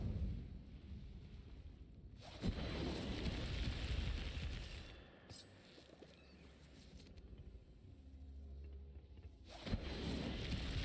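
A fire spell bursting in Hogwarts Legacy, loud rushing flame whooshes with crackling roars that swell, dip midway and flare up again, with no voices.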